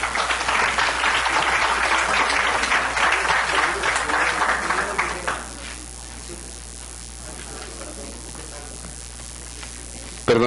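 Audience applause at a Mexican pediatric intensive care association event, a dense burst of clapping for about five seconds that drops to quieter scattered claps and room noise.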